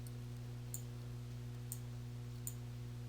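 Three sharp, quiet computer mouse clicks spaced about a second apart, standing out against a steady low electrical hum.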